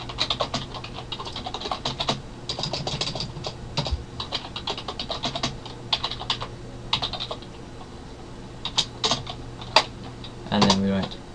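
Rapid, irregular keystrokes of someone typing BBC BASIC code on a computer keyboard, steady clattering throughout with a few louder bursts near the end, no voice over it.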